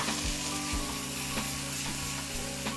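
New Mexico green chili salsa sizzles in a hot pan, a loud, steady broadband hiss and crackle with a few sharper pops, heard close up with no talking.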